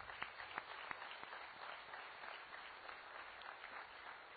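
A church congregation applauding during a Mass, a soft, dense patter of many hands clapping that is faint and fairly distant, holding steady throughout with a few sharper claps near the start.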